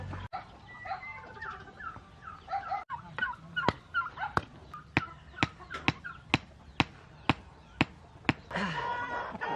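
Backyard hens at feeding time, with a run of sharp, evenly spaced clucks and calls repeating close by over a murmur of softer chatter, then a burst of busier flock noise at the end.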